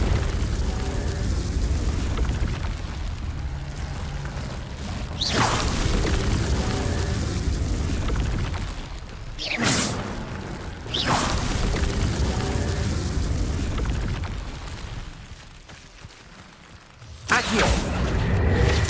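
Confringo fire spells in Hogwarts Legacy go off as several loud booming blasts with whooshing bursts, spaced several seconds apart over a rumbling game backdrop, with occasional speech.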